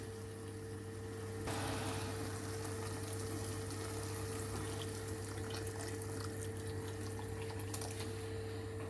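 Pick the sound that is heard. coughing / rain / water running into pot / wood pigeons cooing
water running into pot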